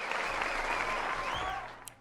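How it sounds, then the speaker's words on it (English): A small audience applauds in a dense, even burst of clapping that fades out after about two seconds. A faint voice can be heard beneath it. "I want to give her a round of applause"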